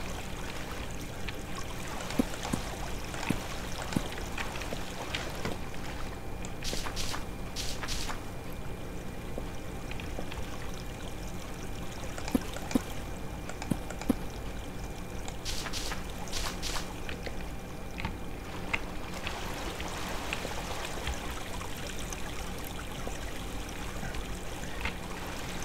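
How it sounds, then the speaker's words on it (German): Water flowing in Minetest makes a continuous trickling, streaming wash, moderately loud and steady throughout, with faint scattered clicks on top and no talking. "Ich verstehe das Wasser nicht. Es fließt einfach weiter bis nach da hinten."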